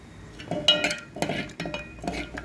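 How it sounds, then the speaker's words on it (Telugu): Two cardamom pods are pounded and crushed in a home kitchen, giving a few sharp, close clinking knocks in uneven bursts. "రెండు యాలక్కాయలు ఇలా కొట్టుకొని"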